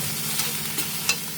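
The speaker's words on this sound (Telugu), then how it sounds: "స్లోగా పెట్టుకుని ఆ పచ్చివాసన పోయేంత వరకు బాగా వేసుకోవాలి." Chutney ingredients fry gently in a pan over low heat, giving a steady close sizzle with a couple of faint stirring scrapes and no talk.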